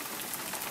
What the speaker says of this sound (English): No, but it's raining.